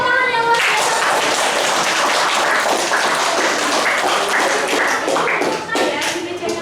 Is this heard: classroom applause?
yes